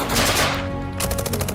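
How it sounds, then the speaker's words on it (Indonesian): Battle gunfire: a loud burst of rapid automatic shots, then a pause and a second run of evenly spaced, sharp reports close by, dominating throughout. "Dalam hujan tembakan dan serangan udara terus-menerus,"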